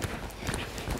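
Horse hooves clatter in quick, uneven beats as the horse bolts from a trot at a riding yard, close and steady over a short burst with faint voice-like sounds mixed in.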